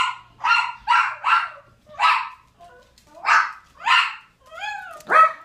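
A dog barks repeatedly in short, sharp bursts with brief pauses between them, ending in a higher yelping whine, fairly close and clear.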